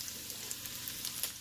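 Onions crackle and sizzle steadily in hot oil in a Ninja Foodi, a quiet, even frying hiss with small pops scattered through it.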